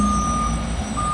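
A concrete truck reverses on a construction site for a footer pour, its backup alarm sounding a loud steady beep over a heavy diesel engine rumble.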